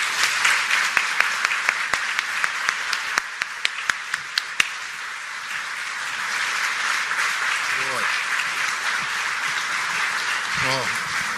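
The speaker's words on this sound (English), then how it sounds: "please join me with a resounding applause and welcome the Premier of the province of Ontario, the Honourable Doug Ford" Audience applause welcoming Ontario Premier Doug Ford at a Windsor hospital construction event: crisp individual claps at first, swelling into broad, steady clapping from a room full of people that carries on to the end.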